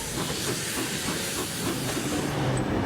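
Steam locomotives 2705 and 3265 shunt at a New South Wales heritage station during a 2011 steam season, giving off a loud, steady hiss of escaping steam with faint rail rumble beneath, and no voices.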